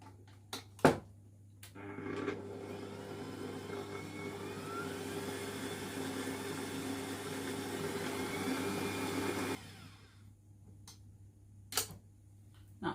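An electric mixer creams butter and sugar for red velvet cake batter, giving a steady, fairly loud whirring drone from about two seconds to nine and a half seconds, with a few sharp clicks and knocks before and after.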